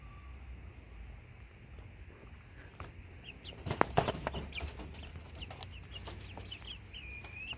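Backyard chickens, one white, cluck softly around a coop, with a few faint clucks and a brief louder squawk mid-clip over a quiet windy background.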